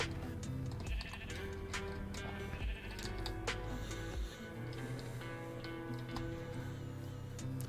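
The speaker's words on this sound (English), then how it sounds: "at the very least we started next to some sheep" Minecraft sheep bleating repeatedly in a game world, several short nasal bleats over a steady background of ambient game music and ticking sounds, with no talking.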